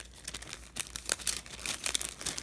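Plastic heat-shrink bags meant for wrapping bath bombs crinkle and rustle up close, producing a continuous run of crisp, irregular crackles.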